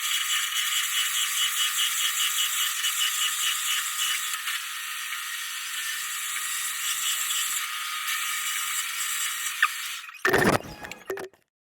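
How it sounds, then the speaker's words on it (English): A milling machine cuts a bevel on a kamagata usuba knife blade, giving a steady high-pitched squealing, whining tone for about ten seconds before it stops with a few loud clunks and rattles. "I'm going to take it to the milling machine and I'm going to mill the bevel."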